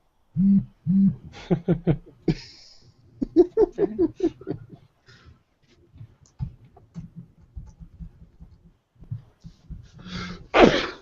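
A series of sharp, breathy sneezes bursts out close to the microphone, with quiet gaps between them and a final loud sneeze at the end.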